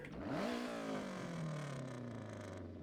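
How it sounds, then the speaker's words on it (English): A rally car engine in the video game Forza Horizon 6 revs up sharply and then holds a steady, throaty drone that slowly drops in pitch, loud and close. "This is by far one of the best sounding cars I've heard in a while."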